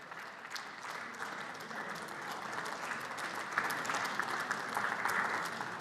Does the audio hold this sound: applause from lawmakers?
yes